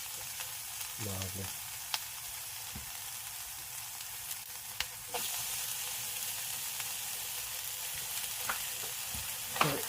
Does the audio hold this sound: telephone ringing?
no